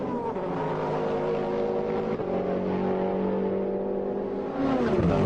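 Mercedes CLR race car at Le Mans in 1999 roars along a straight at steady high revs, a loud continuous engine drone rising slightly near the end, with no talk.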